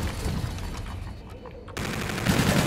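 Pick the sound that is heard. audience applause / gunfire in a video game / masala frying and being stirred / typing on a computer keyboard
gunfire in a video game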